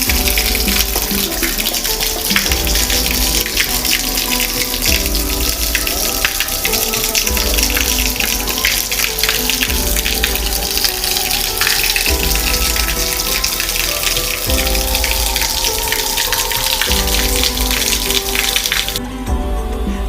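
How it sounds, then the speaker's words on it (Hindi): Water pours from a stone cow-mouth spout into the Lakshman Kund pool at Turturiya Dham, a loud, continuous rushing splash that fills the whole stretch with no voices. "जब पानी इस नाले से होते हुए गौमुख से जब लक्ष्मण कुंड में गिरता है, तब तुरतुर की आवाज आती है"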